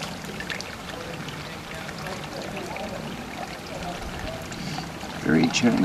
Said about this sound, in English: get a little water in the pan